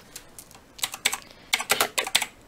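Someone types a short message on a computer keyboard, with quick irregular bursts of close, crisp key clicks that speed up into a denser flurry near the end. Nobody talks.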